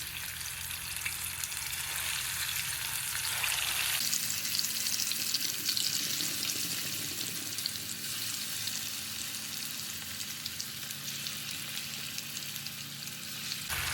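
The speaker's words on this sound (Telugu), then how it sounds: "ముక్కలు ఇలా చక్కగా ఫ్రై చేసుకోవాలండి." Pieces of murrel fish fry in hot oil in a pan with a steady, dense sizzle. The hiss swells a bit louder partway through and then holds a constant close crackle throughout, with no talking.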